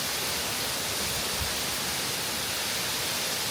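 A waterfall in Albania roars as a steady, dense wash of rushing water. It is loud and close and unbroken from start to finish, with no voices over it.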